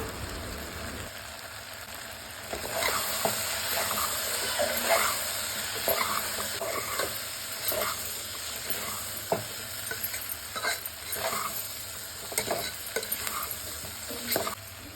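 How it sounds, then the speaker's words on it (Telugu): A spoon stirs two tablespoons of chili powder into potato curry frying in a pan, producing close, repeated scraping strokes over a steady sizzle. "కారం మొత్తం మిక్స్ అయినట్లు కలుపుకొని"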